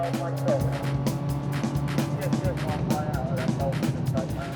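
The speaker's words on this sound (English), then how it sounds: "it's time for some foot-down motoring in the Evo" A Mitsubishi Evo police car with 261 brake horsepower accelerates hard, its engine roaring steadily under a voice talking throughout.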